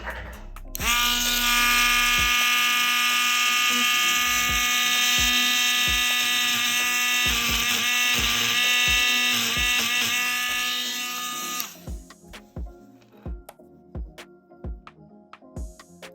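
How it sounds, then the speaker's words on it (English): A Dremel rotary tool grinds gold-plated jewelry with a loud, sustained high-pitched whine for about eleven seconds, its pitch dipping under load, then stops and leaves a few sharp knocks and clicks. "Now let's see how the Dremel's gonna do on this side"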